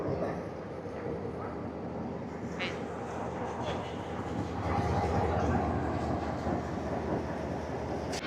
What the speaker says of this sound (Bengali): ছেড়ে দিল আমাদের ট্রেন মাহো জাংশন রেলওয়ে স্টেশন থেকে।